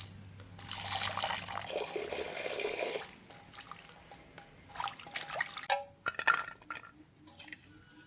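Shallots, garlic and green chillies are rinsed under a running tap. A loud stream of water pours for about three seconds, then gives way to drips, splashes and light clinks in a sink.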